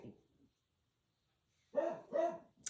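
A pet dog at the front of a house barks twice in sharp, close succession at another dog being walked past outside, after a brief quiet stretch.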